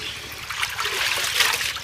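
Water trickles steadily over goat breast meat being rinsed for biryani, a continuous close splashing stream with no talk.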